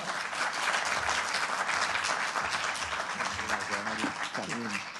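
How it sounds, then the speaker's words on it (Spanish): An audience at a university lecture bursts into loud, sustained applause welcoming the speaker, a dense wash of clapping throughout, with a voice briefly heard over it near the end. "Pide un aplauso para él, por favor."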